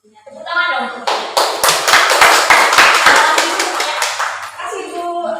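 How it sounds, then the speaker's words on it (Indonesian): Schoolchildren in a classroom clap together, a burst of many hands that swells quickly, holds steady for several seconds, then tapers off, with a voice briefly before it. "Tepuk tangan dong."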